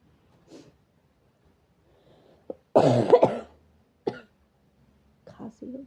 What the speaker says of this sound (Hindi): खांसी हो गया है।